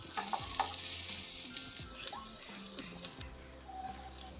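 Garlic sizzles in melted butter in a hot pan for a creamy white sauce pasta, a steady frying crackle broken by the scrape and clink of stirring.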